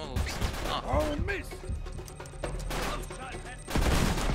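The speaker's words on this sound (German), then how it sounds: "Ich hab da gerade eine Granate hingeworfen." Grenade blasts and bursts of gunfire from an Uncharted 3 co-op firefight, dense and loud throughout with a heavy crash near the end, while players talk over the action.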